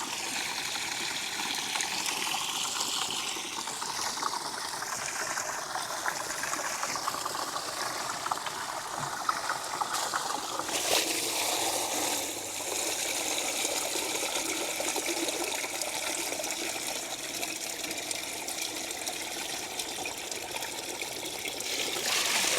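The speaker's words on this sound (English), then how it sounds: "I need to fill up this bag for shower" Spring water runs into a camping shower bag outdoors, a steady trickling and gushing stream that continues unbroken and changes tone partway through as the bag fills, with no talking.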